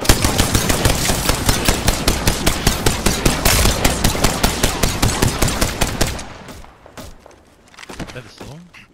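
Rapid automatic gunfire from the video game Apex Legends rattles loud and close in a fast regular burst for about six seconds, followed by quieter scattered thuds and game effects.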